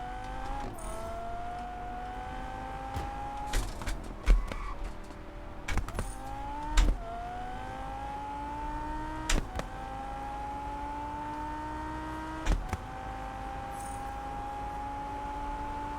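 A racing car in the video game Test Drive Unlimited Solar Crown, its engine note climbing steadily through the gears with sharp shift breaks, a few brief knocks and thumps along the way, loud and close throughout.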